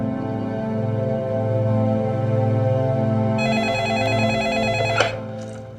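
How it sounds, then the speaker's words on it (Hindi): Telephone ringing on an outgoing call, a steady electronic ring tone that runs on at an even level, a second brighter tone joining partway, then a short click near the end, with no voices. "किसे फोन लगा रही है तू"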